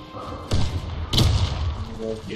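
A grenade blows up in a multiplayer shooter game, a loud low thud that lands amid chaotic game noise with a second heavy impact shortly after, while players shout over it.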